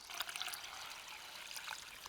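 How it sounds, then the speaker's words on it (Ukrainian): Water is poured over dry peas for a filling, making a faint, steady trickling splash that runs evenly for a couple of seconds with no voices. "Сухий горох залили водою"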